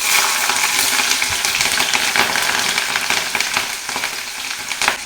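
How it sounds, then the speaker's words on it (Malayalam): Mustard seeds popping and curry leaves sizzling in hot oil while cooking a gooseberry pickle, a steady dense crackle and spatter with sharp pops throughout, close and fairly loud with no talk. "കടുക് ഇട്ട്, കടുക് പൊട്ടിക്കഴിഞ്ഞ് ഇച്ചിരി വേപ്പില ഇടാം."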